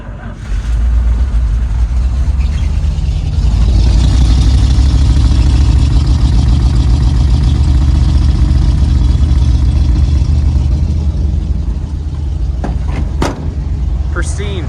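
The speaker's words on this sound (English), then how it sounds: "360 cold start, here we go." A 1970 Ford Maverick with a 360 V8 cold-starts in the snow. It catches almost at once, then holds a loud, steady, rumbling idle close by, with a few sharp clicks near the end.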